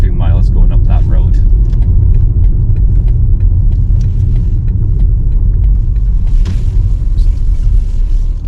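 A BMW 330e plug-in hybrid saloon drives along a road, giving a steady low rumble of tyres and motor throughout, with a person talking over it almost continuously.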